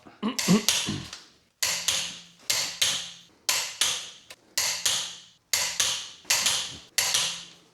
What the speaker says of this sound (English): this is just to prove to the viewers that we're torquing it to spec